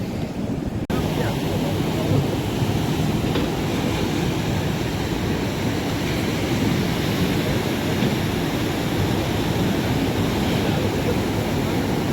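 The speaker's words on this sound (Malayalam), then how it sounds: "തോട്ടപ്പള്ളി പൊഴി മുറിഞ്ഞ് വെള്ളം ഇപ്പം നല്ല രീതിയിൽ കടലിലേക്ക് ഒഴുകുന്നുണ്ട്" Breached sandbar at the Thottappally estuary mouth in Kerala, with backwater pouring out into the sea: a steady, loud, broadband rush of flowing water and surf that continues unbroken with a wind-like roar.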